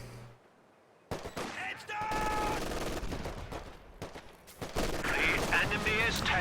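MG42 machine gun fire in a strategy video game battle: rattling bursts and clattering gunfire after a quiet opening, overlapping with a commentator talking.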